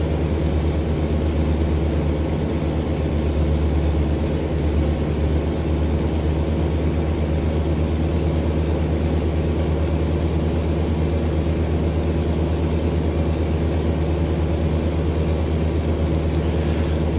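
A Kenworth W900 truck in American Truck Simulator cruises with its bigger engine droning steadily, a constant low heavy engine hum and road noise with no breaks.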